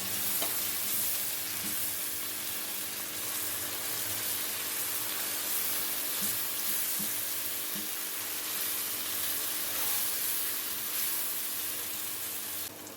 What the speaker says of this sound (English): Add tomatoes into roasted spices and fry again for 2 to 3 minutes